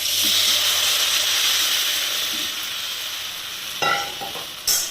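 Dissolved cooked tomato poured into a pan of sautéed onions while making tomato sambar, giving a steady hiss and sizzle that fades gradually, with a couple of brief clatters near the end.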